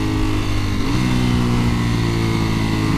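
A Ducati Panigale V4S motorcycle downshifting with its auto-blipper, giving a continuous close engine drone with a quick rev blip and a pitch shift partway through.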